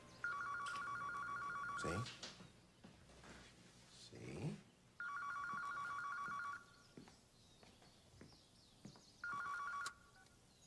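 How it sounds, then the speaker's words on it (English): A telephone bell rings in three loud bursts, with pauses in between, indoors in a home. Someone speaks briefly in the gaps between the rings. "I promise you that phone's going to ring any day now."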